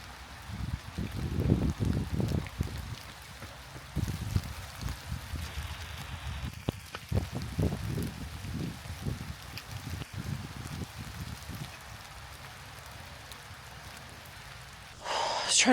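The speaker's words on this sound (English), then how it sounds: "The rain is fairly letting it down now, and the wind is after picking up a small bit" Wind buffets a runner during an outdoor interval session on a wet, miserable day, coming in heavy, uneven low rumbling gusts over a steady wash of falling rain.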